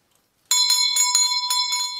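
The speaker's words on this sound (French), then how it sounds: "Les cloches." Church bells ring out for Easter, bright metallic strikes pealing in quick repeated rhythm with long ringing overtones, sounding clearly and continuously after a brief silent moment.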